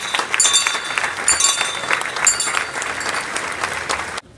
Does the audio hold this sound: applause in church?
yes